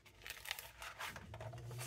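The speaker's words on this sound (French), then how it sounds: "Donc je détache de son bloc le papier" Watercolour paper rips off a pad in a few crisp tearing strokes, close and quiet, ending in a soft crinkle.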